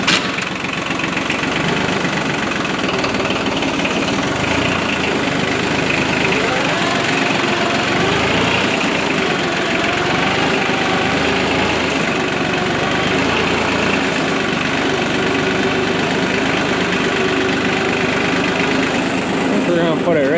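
A small older tractor engine runs steadily at idle nearby for the full stretch, a continuous mid-pitched mechanical chug with no pauses.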